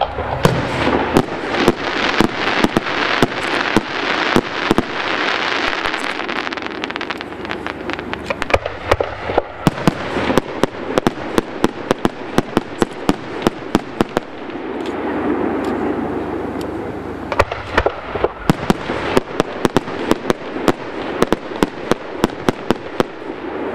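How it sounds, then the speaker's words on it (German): Several 100 mm eight-shot multi-break firework shells explode one after another at a fireworks show, each bursting into rapid strings of sharp, loud bangs that echo, with crackling fallout and rumbling between the volleys. "So, das waren die 8 Schlagbomben"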